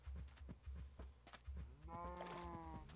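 Cows in a survival video game low in a few harmonic, drawn-out calls near the end, after a run of quieter thumping footstep-like sounds; no talking.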